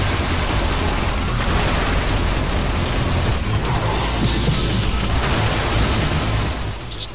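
Continuous automatic assault rifle fire from The 3rd Birthday, rapid dense bursts packed with explosions, loud and unbroken across the whole stretch before tapering slightly at the end.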